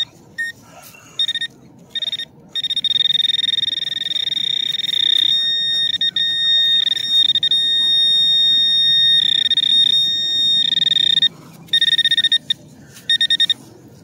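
A metal detector sweeping over a buried Jefferson nickel in a park gives a sustained, high, steady tone that cuts in and out several times as the coil passes.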